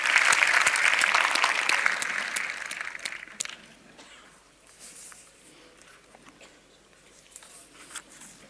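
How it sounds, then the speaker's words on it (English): Applause from a conference audience for an award winner at a plenary session, a dense burst of clapping for about three seconds that then fades into scattered claps and quiet room noise. "An applause for him"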